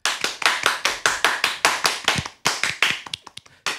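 Rhythmic clapping from a small group or single person welcoming a French-language live show, steady regular claps close by, breaking into scattered uneven claps near the end.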